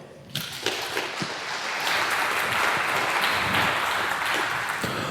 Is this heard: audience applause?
yes